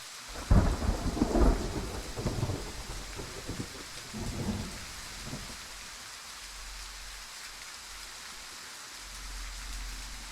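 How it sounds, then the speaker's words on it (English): Heavy rain falls across a marsh in the Way of the Hunter hunting game, with loud rolling thunder rumbling through the first half before easing into a steady, hissing downpour. "the rain might actually be helping us too"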